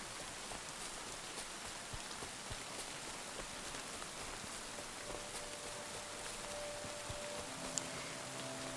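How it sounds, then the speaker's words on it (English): Rain in the video game Kingdom Come: Deliverance II, a soft even patter and hiss of falling drops, steady and quiet throughout with faint tonal music drifting in near the end. "Our first rain, look how pretty it is."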